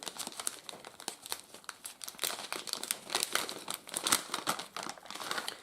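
Plastic resealable bag of Woodland Scenics E-Z Water crinkling and rustling up close, a steady run of crisp crackles with a small tearing quality as the bag is worked open.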